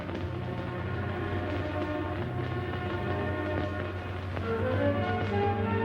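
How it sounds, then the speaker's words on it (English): A subway train rumbles and clatters steadily along the tracks, with tonal hums and squeals rising near the end, no talking. "The subway."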